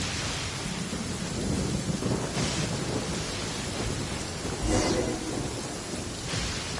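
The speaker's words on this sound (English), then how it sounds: "Let us find shelter from the rain." In the video game Genshin Impact, steady heavy rain hisses continuously, with low rolls of thunder swelling now and then beneath it.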